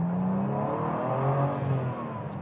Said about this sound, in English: Well, this engine that Gary just did is fantastic